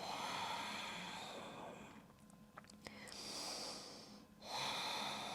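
A single close, audible exhale during a yoga practice pushes out through the nose in a soft, breathy rush, trailing off before a brief second breath.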